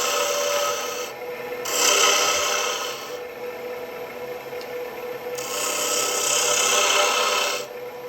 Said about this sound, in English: I'm going to just probably stick with the spindle gouge for the majority of this